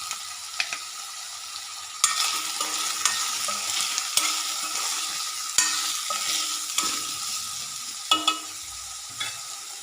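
Soaked meal maker chunks are stirred into a frying pan of masala, a steady close sizzle punctuated by repeated scrapes and knocks of a spoon against the pan, with no speech.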